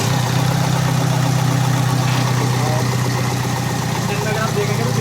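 A Ford Figo diesel engine idles steadily after being started, with a loud, close, even rumble and constant mechanical clatter throughout. The start is not heard.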